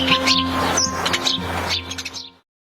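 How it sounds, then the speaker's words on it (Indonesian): House sparrows chirp in quick, bright bursts over a soft noisy background with a steady hum. The calls come close together and then stop abruptly. "Mari kita mengenal lebih dekat burung kecil yang sehari-hari ada di sekitar kita"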